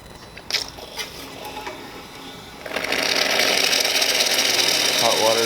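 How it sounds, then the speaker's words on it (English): ECM Giotto espresso machine, freshly serviced, dispensing hot water: a steady rushing, pump-driven hum rises partway through and continues evenly, following quieter mechanical clicks and handling noise. "Test the hot water."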